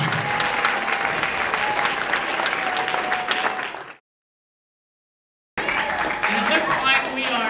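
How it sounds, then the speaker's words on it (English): Audience applauding a five-year-old girl pianist, a dense burst of many hands clapping that cuts to dead silence for about a second and a half, then resumes just as strongly. "Let's give her a big round of applause."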